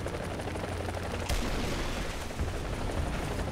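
Rapid booming gunfire and explosions from a helicopter battle in War Thunder form a dense, loud, continuous barrage with one sharper blast partway through.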